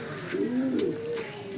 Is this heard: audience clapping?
no